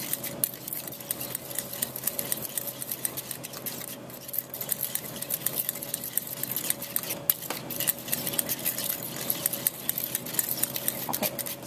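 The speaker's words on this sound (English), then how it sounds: "Miriam's going to start whisking all of this together" Sugar and egg yolks whisked in a bowl for eclair pastry cream, heard as fast, steady metallic clicking and scraping of the whisk against the bowl that continues without a break.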